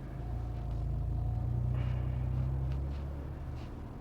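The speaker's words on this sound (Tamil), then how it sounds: "நார்மலாக வண்டி ஐட்லிங்கில் இருக்கும்போது அந்த ஒரு ஸ்போர்ட்டி நோட் பேக்ரவுண்டில் இருந்துகிட்டே இருக்குது" A Tata Altroz Racer idles with a steady low engine hum and a faint sporty rumble, even and unchanging throughout, heard close and alone.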